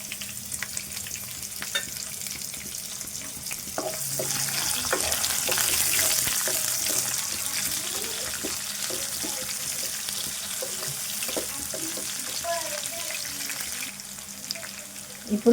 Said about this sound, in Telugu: ఉల్లిపాయ మంచిగా వేగాలి.